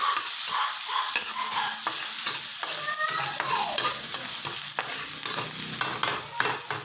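Garlic, onion and tomato sizzle and fry in a pan, with stirring scrapes and clinks over a steady bright hiss, close and fairly quiet.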